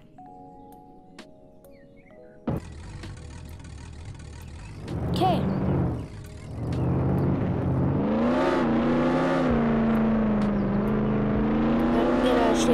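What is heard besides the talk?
car spawned and driven in Roblox Jailbreak video game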